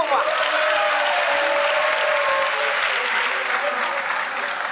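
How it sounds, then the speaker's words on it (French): Sustained applause from a television talent show audience fills the hall, dense and steady throughout, with faint shouting or whistling tones riding over the clapping. "applaudissez-les pour moi"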